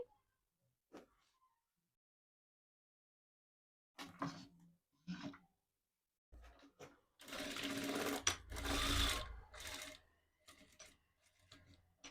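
A sewing machine stitches folded cloth, a few short bursts and then a sustained whirring run of the needle, close and clear, with quiet pauses between.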